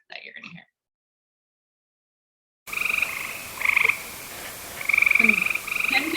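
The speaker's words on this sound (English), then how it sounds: "This is a gray tree frog." A gray tree frog gives clear, loud, trilled calls in several repeated bursts after a short pause, with faint noise beneath.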